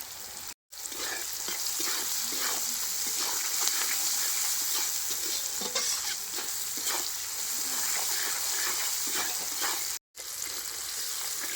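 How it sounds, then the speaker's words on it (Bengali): Onions and green chillies frying with salt in a pan for a rustic village meat-and-new-potato dish, a loud continuous sizzle with scraping stir strokes throughout, briefly cut twice. "পেঁয়াজ আর কাঁচা লঙ্কা যেন কত সুন্দর ভাজা হয়ে গেছে"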